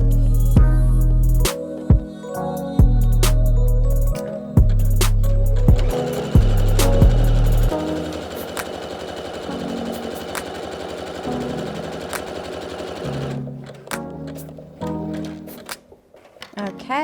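A sewing machine stitching the side seams of a top runs in several short, loud motor bursts, close by. A softer, looser mechanical rattle and some speech follow.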